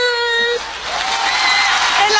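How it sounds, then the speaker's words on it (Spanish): A live comedy show audience bursts into loud, sustained applause for a performer named Rogelio, rising sharply and holding as a dense crowd roar of clapping. "El aplauso para Rogelio, por favor"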